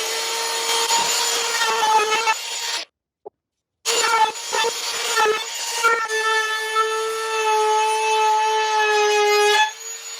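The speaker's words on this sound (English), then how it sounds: "I went back and rounded over the edges that I cut with a router bit." Router bit rounding over the freshly cut edges of wooden deck boards: a loud, steady high-pitched whine with strong ringing tones, cut off by a brief silence near three seconds, then resuming and running continuously until near the end.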